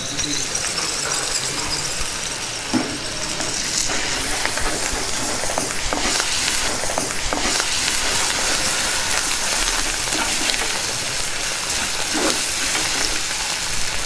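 Onions and coriander fry in hot oil as a tempering for raw mango dal, a close, continuous crackling sizzle with occasional sharper pops and stirring scrapes.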